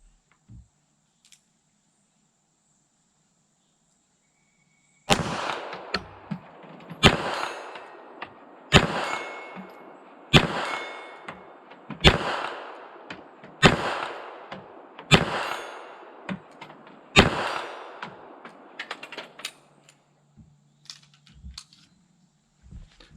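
A Beretta 3032 Tomcat .32 ACP pistol fired single action at a 40-yard steel plate outdoors: about nine evenly spaced sharp shots, each followed by a faint metallic ring, after a quiet start.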